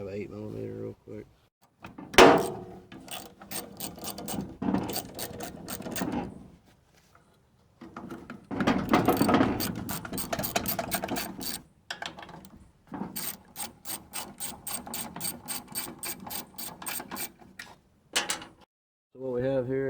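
A ratchet with an 8mm socket works loose the cover bolts on a corroded Briggs and Stratton small engine, giving quick bursts of rapid clicking between clunks and handling noises, with someone talking in between.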